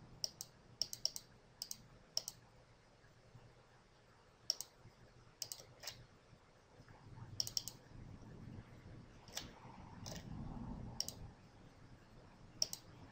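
Computer mouse clicks ring out sharp and close, some single and some in quick pairs, spaced irregularly over quiet room tone with faint low movement noise between them.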